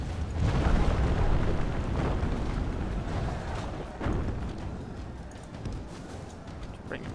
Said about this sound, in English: Come on, cannons, blow up that wall.